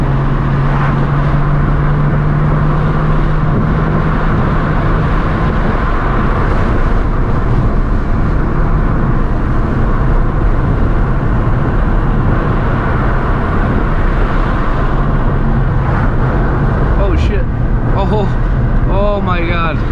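A stock Nissan 350z drives cautiously on wet backroads, its engine droning steadily from inside the cabin with tire and road noise throughout; someone talks over it much of the time.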